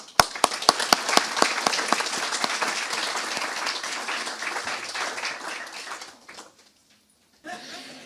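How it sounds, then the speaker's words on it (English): Loud applause from a crowd at a university graduation ceremony, with sharp individual claps at the start, fading out around six seconds before a brief burst of noise returns. "give yourselves a round of applause because you more than deserve it"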